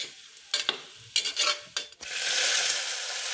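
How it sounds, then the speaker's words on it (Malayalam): Onions and shallots hit a pan with ginger-garlic paste for a chicken curry: a few brief stirring scrapes, then a steady sizzle swells up and holds. "നമ്മുടെ എടുത്ത് വെച്ചേക്കുന്ന സവാളയും ഉള്ളിയും എല്ലാം കൂടെ ഇട്ട് വഴറ്റിയെടുക്കുക"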